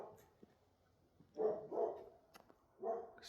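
A dog barks a few times in short bursts, with gaps of quiet between, fairly close and moderately loud, with fireworks having just gone off nearby.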